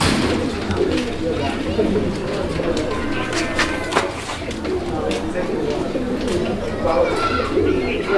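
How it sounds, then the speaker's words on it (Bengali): Fancy pigeons in a loft coo softly, their low calls mixed with wing flutters and scattered chirps, while people talk steadily over them throughout. "এখানে চমৎকার আরও এক জোড়া কবুতরের কালেকশন রয়েছে"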